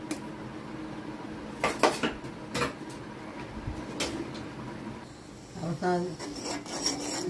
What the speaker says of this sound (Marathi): मध्ये मध्ये हलवत राहायचं चहा